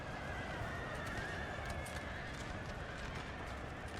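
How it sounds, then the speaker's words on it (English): Horses neighing and galloping during a Napoleonic-era battle in Napoleon Total War, with a steady dense rumble of hooves and distant whinnies layered over continuous battlefield noise. "Look at this horse artillery getting chased down."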